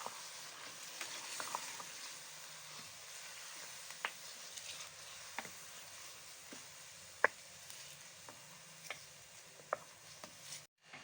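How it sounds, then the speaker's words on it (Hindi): Ground onions fry in a kadai for white chicken kadai, giving a steady soft sizzle with scattered small pops and ticks, quiet and close, with no talking. "प्याज को भी अच्छी तरह से फ्राई करेंगे"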